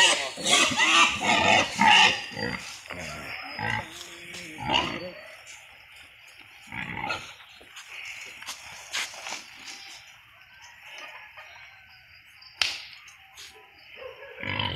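Pigs grunting and squealing up close, loud bursts at first then scattered grunts and snorts with quiet gaps, a voice occasionally heard.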